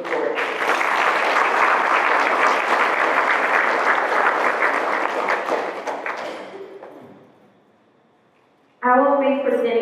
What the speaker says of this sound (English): Let's again applaud them for their continued support.